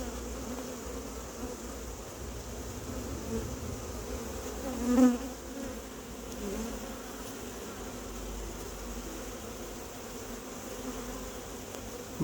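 Honeybees buzz steadily near and close up as they squeeze out of a hive through a tiny hole while the colony is being put to sleep, a continuous droning hum with one brief louder swell midway.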